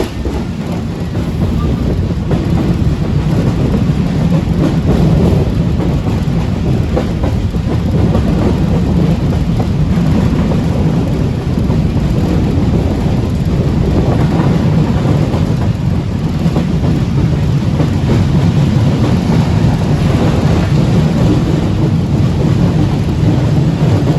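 Bolan Mail passenger train pulling into Jumma Kot station, with a loud, steady low rumble and rolling clatter that continues without a break from start to finish.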